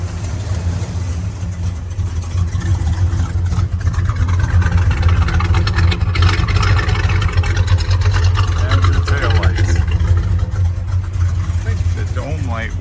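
A 1968 Oldsmobile 442 engine running at a steady idle, a loud low rumble throughout with faint background noise.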